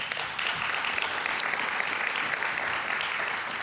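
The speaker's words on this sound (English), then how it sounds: "if you could stand up and give him a round of applause" An audience at an Alaska Airlines pitch contest at an innovation summit gives a round of applause for a man standing up, a dense, even roar of many hands sustained throughout.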